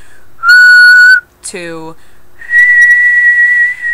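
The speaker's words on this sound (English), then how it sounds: "Once you've figured out whistling" Clear, close whistling in a lesson on how to whistle: a held high tone, a swooping downward slide, then another long steady note.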